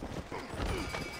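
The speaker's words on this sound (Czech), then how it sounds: "Tady je můj kůň." A horse in the Western game Red Dead Redemption, its hooves clopping along in a quick, even rhythm with a short whinny mixed in, soft and brief.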